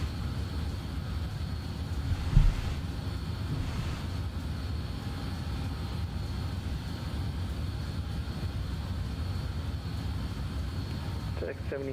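BAe146 jet engines in Microsoft Flight Simulator drone at a steady, moderate level throughout the climb, with faint radio-style talk beneath and a brief thump early on.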